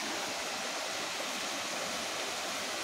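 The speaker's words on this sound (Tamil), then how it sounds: "அருவி பக்கத்துலேயே இருக்குது இடம்." A steady, dense roar of rushing water from a nearby waterfall at an outdoor cooking spot, broadband and unbroken throughout with no voices.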